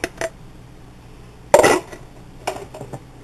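A spatula scrapes a mixing bowl of eggs, buttermilk, oil and vanilla for carrot cake, giving a few short scrapes and clinks with one louder, longer scrape in the middle and quiet pauses between.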